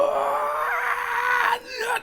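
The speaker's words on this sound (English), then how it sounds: "you start to hear something that sounds like a backwards recorded, subtle scream" A subtle reversed scream effect in a dark ambient music track, a sustained wailing, moaning tone swelling steadily before cutting off and returning briefly.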